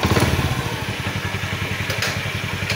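A Honda Beat scooter engine idles just after being restarted, a close, even putter of rapid regular pulses with a brief clattery burst near the start and no talking.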